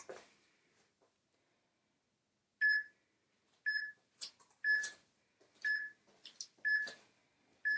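During a bodyweight upper-body workout, a timer sounds a series of about six short, clear electronic beeps at roughly one-second intervals, mixed with light clatter in an otherwise quiet room.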